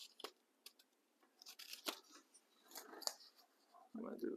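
Scissors snip through a paper model piece for a scaled National Mall craft, short crisp cuts in an uneven rhythm with small pivoting pauses, close and fairly quiet, ending in a brief low rustle.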